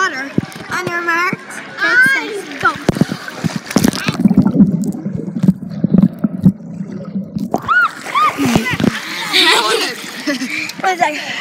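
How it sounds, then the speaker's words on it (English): Girls going into the water, with splashing and gurgling amid lively, excited children's voices and chatter, close and fairly loud, with a muffled, underwater-sounding stretch in the middle. "Just going in the water."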